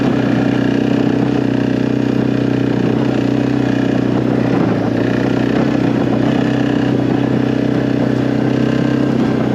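A Suzuki KingQuad ATV engine runs steadily while riding, a loud continuous mid-range drone with a clattering edge from start to end, alone with no talk.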